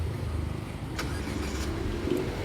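A car engine cranks and catches with a steady low idle running throughout, close by, with a brief higher whir partway through.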